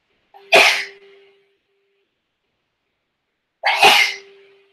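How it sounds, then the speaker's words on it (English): Two loud, sharp sneezes, each standing alone and separated by about three seconds of silence. "I have to sneeze."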